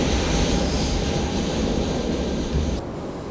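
Airliner climbing away after takeoff with its landing gear retracting in a flight simulator game, a loud steady engine roar that holds for the whole stretch and drops slightly near the end.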